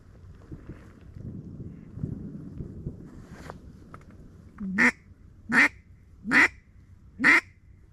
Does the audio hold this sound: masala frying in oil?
no